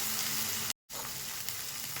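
Cumin paste sizzles and fries steadily in a pan for an Indian egg curry, a continuous close hiss that briefly drops out and then resumes.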